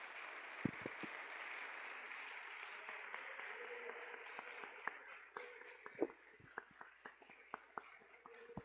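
A church congregation claps at a worship service, with scattered hands clapping steadily, moderately close, and a few louder individual claps standing out.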